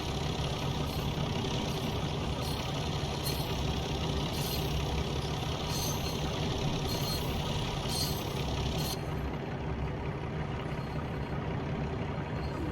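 A Class 37 diesel locomotive in Train Simulator runs at full power through Mossley Station: a loud, steady, dense engine roar that keeps going throughout, with some faint rhythmic higher clatter fading out near the end.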